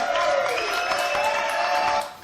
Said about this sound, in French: je vous demande d'applaudir très très fort